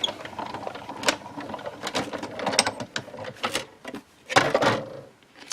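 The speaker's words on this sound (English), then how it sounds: "And run it through your die cut machine." Die cut machine pressing an embossing folder over card stock for a scrapbook card, a series of close mechanical clicks, creaks and grinding rolls in an uneven rhythm.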